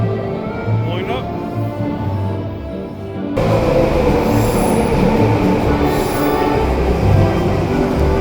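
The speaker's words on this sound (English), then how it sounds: "Incoming production train" A SkyTrain pulling into a station, with wheels squealing loudly and steadily over a rumbling, rushing train roar, close by and continuous throughout.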